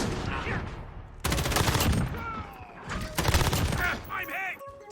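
Rapid bursts of gunfire during a drop shot in Fortnite, two dense volleys of sharp shots separated by short gaps, close and loud, with a voice talking in between.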